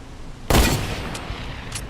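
A no-scope sniper rifle shot in Fortnite fires once, a single sharp loud crack with a short noisy tail, alone with no talking.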